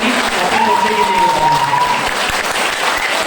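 A large audience claps loudly during a motivational speech, a steady, dense wash of applause with a sustained tone from the hall's sound system briefly running beneath it.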